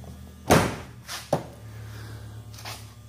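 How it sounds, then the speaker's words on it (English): The door of a repaired Samsung front-load washing machine is pushed shut, giving one close, solid thunk followed by a couple of lighter knocks and latch clicks in a quiet room. "So, okay, let's close the door,"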